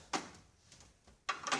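Top drawer of a Craftsman 52-inch rolling tool box sliding open, two sharp metallic rattling slides separated by a quieter pause, close and clear with no talking.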